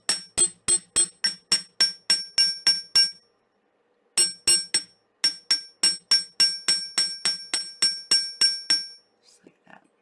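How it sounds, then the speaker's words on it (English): A hammer strikes the metal tip of a handmade tree-of-life pendant in a run of rapid, ringing metallic taps. After a pause the bright, evenly spaced strikes resume and then trail off into a few light taps. "And just hammer out that tip."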